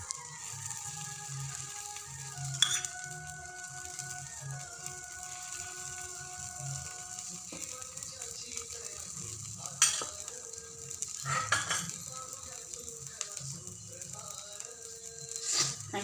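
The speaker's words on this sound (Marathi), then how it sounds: "चांगलं क्रिस्पी होऊन दे म्हणून तू बारीक गॅसवर ठेवलंय" A Schezwan dosa frying and crisping on a pan over a low gas flame gives a steady, quiet sizzle with a few brief clicks and clatters, and no one talks.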